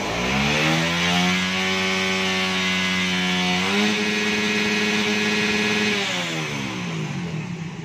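A Suzuki Raider 150 Fi motorcycle engine, previously sputtering when hot, revs hard and steady under throttle, pitch climbing and holding high before easing back down, loud and close with no talk.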